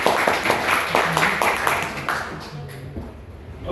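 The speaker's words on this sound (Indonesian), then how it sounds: "paling tidak kita tepuk tangan untuk kerja keras mereka." Classmates clap for a group's hard work at the end of a class session, a moderate burst of scattered hand claps that thins and fades over a few seconds, with faint voices murmuring underneath.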